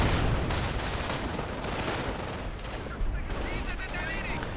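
Artillery fire in a real-time strategy video game: dense bursts of gunfire and booming shell impacts, with a commentator talking over the battle.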